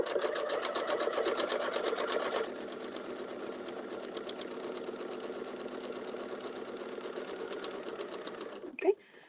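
A sewing machine stitches an embroidery design in a fast, even run of needle strokes, close and steady for several seconds, ending with a brief clunk as it stops.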